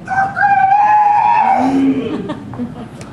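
A rooster crows in a single long, rising-then-falling call lasting over a second, loud and close, during a staged play, followed by quieter background rustle.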